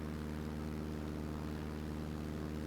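Aircraft taking off from a narrow runway in Microsoft Flight Simulator 2024, a steady, faint propeller drone with a constant pulsing hum and no pitch change.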